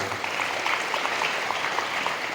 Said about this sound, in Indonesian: Tepuk tangan untuk direktur dan head of hari ini.